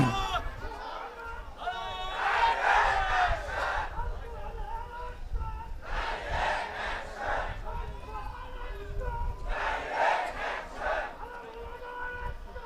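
A large crowd at an Islamic religious gathering (mahfil) in Rajshahi shouts a takbir response in three loud, surging bursts of massed voices, each a couple of seconds long, separated by brief quieter gaps.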